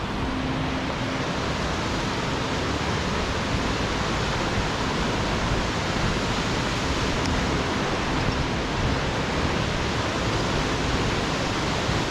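A waterfall just off the John Muir Trail sends out a loud, steady broadband rush of falling water, constant and close, with no voices.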